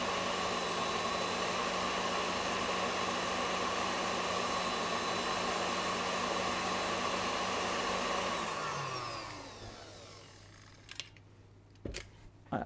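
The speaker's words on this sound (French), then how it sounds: "j'arrête juste mon batteur" Electric hand mixer whirring steadily at high speed while beating cake batter for a red-fruit layer cake, then winding down and stopping, followed by a few faint clicks.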